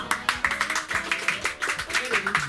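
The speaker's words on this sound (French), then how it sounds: "Applaudissements." Applause from a studio audience at a French game show, a patter of quick, irregular claps at moderate volume that runs throughout, with a voice speaking underneath.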